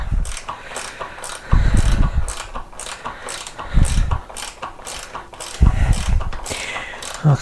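A ratchet spanner works loose the bolts holding the fuel tank on a Royal Enfield Guerrilla 450 motorcycle, giving bursts of rapid close clicking separated by short pauses and low knocks.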